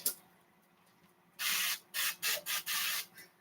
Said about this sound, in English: I'm adding some avocado oil spray in the pot.